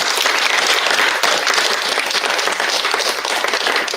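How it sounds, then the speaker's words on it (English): Wedding guests applaud during the speeches at a reception, a steady, loud wash of many hands clapping together without pause throughout. "So let's have a round of applause."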